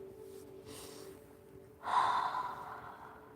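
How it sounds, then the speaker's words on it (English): A single deep breath drawn in a calm guided relaxation session: a rush of airy breath swells up after a quiet stretch and slowly trails off, close and clear. "let's take some deep breaths"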